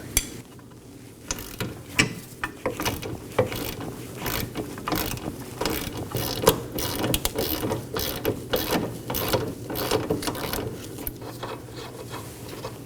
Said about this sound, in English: I'll be using a ratchet on the nut side and a wrench on the bolt side.